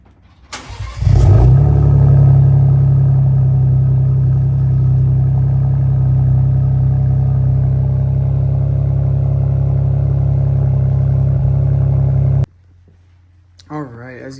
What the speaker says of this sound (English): Let's use the remote start and let's start it up and hear what this sounds like.